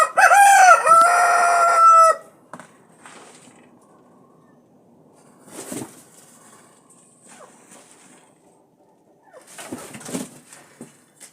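Chickens kept in a backyard coop, opening with a loud, close rooster crow lasting about two seconds, followed by quieter scattered clucks, scratching and rustling, with another burst of bird calls near the end.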